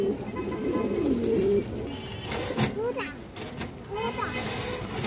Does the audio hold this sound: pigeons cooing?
yes